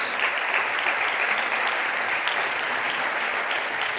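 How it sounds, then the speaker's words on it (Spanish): A church congregation gives a strong, sustained round of applause during a sermon, dense clapping from many hands filling the space steadily and loudly from start to finish with no break. "Dale un fuerte aplauso a Dios."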